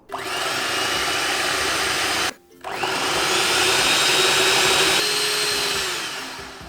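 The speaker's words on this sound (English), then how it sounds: "Now I'm going to beat this for around 5 minutes using an electric whisk." An electric whisk beats vanilla cake batter in a steady, loud whirring drone, briefly cut off once and then restarted, running on with no talk.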